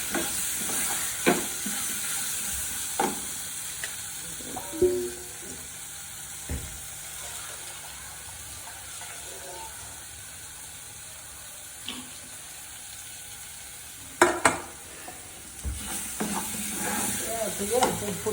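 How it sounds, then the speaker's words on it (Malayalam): Food stirred with ghee in a frying pan gives a faint low sizzle under occasional sharp scrapes and knocks of the spoon, spaced irregularly over a long stretch, with a hint of running water and no clear talk. "നെയ്യ് ഇട്ട് നമുക്ക് നല്ല പോലെ ഇളക്കി കൊടുക്കാം"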